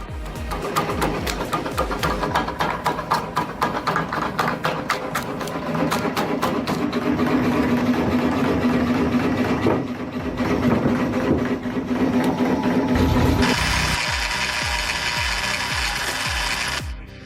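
A motor-driven manual wood splitter, powered by a 1.5 horsepower motor turning at 250 rpm, splits rough boards into planks. It makes a steady, close mechanical clatter with ratchety ticking that runs without pause and turns brighter and harsher near the end.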